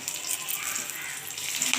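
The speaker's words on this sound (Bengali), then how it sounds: "একটু ভালোভাবে ভেজে নেব" Whole garam masala, bay leaf and dried red chillies fry in oil for a spicy chicken kosha, giving a brief, even, close sizzling hiss with no clear voices.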